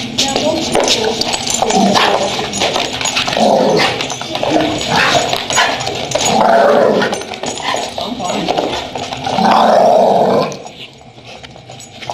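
A puppy growls raspily during play, in repeated throaty bursts, close and loud, with people's voices in the background.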